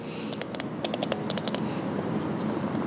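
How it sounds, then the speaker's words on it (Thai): Soft, muted clicks of a quiet S-Gear wireless mouse come in quick clusters, close up, over a faint background hiss. "แทบจะไม่มีเสียงคลิกเลยฮะ"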